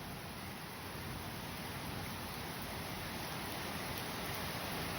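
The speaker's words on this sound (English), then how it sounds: "Oh, this rain's firing up" Heavy rain pouring down in a thunderstorm in Manchester, New Hampshire, a dense, even hiss with no breaks, quiet and unchanging throughout, and no voices.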